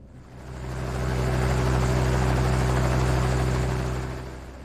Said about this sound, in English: Engines start. The ground shakes.